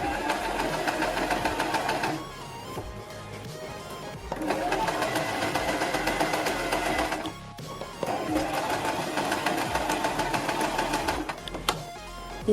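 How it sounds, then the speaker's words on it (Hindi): A sewing machine stitches all the way around a round neckline, running along the buckram edge on a frilled neck design. It comes in three long, steady runs with brief pauses between them, close by and without any talk. "यहाँ पर एक सिलाई लगाएंगे"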